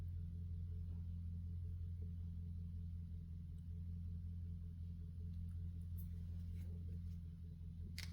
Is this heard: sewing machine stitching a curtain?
no